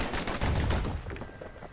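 Guns firing in the video game Bastion, a rapid burst of overlapping shots rattling close and loud for under two seconds, then fading.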